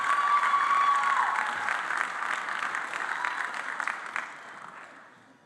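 Applause from a graduation ceremony audience at Modular Academy, steady clapping from a crowd that holds strong, then thins and fades out toward the end, with a brief tone early on.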